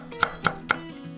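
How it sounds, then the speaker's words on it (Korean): Three evenly spaced knife chops strike a cutting board as crushed whole garlic cloves are sliced, crisp close-up taps with no talking. "통마늘 3개는 으깨서 채 썰고"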